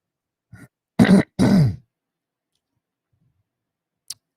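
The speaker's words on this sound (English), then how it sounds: "Have a cough." A person nearby coughs and clears their throat in a few rough bursts, followed by silence and a faint click.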